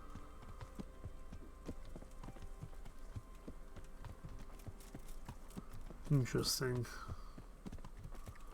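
Horse hooves clip-clop in a steady, evenly spaced rhythm in the Kingdom Come: Deliverance video game, with soft game ambience underneath and a person talking briefly over it near the end.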